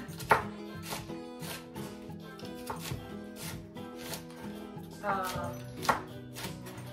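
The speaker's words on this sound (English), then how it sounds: "and then you chop it. You see, you cut it like in little pieces" A knife chopping bok choy into small pieces on a cutting board, a series of sharp, close knocks spaced irregularly, heard under a person talking.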